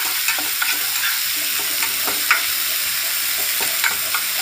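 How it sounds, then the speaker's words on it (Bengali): Tomato and onion frying and being stirred in a pan, with a steady bright sizzle throughout and repeated soft scraping strokes of the spoon, close and fairly loud, no talking. "তো টমেটোর সবজিটাকে দিয়ে দিলাম ভালোভাবে নাড়াচাড়া করে নিচ্ছি"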